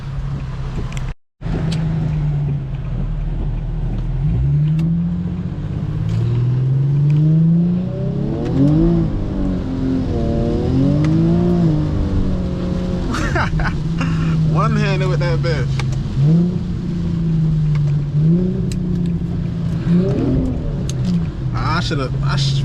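Engine of a rear-wheel-drive Infiniti G37 revving up and dropping as gears shift early on a wet uphill road, a steady close drone rising and falling in pitch with talk over it.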